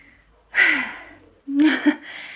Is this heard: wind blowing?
no